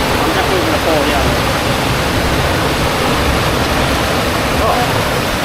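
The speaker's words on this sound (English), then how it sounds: "Pam Bok Waterfall." Pam Bok Waterfall pours in a loud, steady broadband rush, a close and continuous roar of falling water throughout with no breaks.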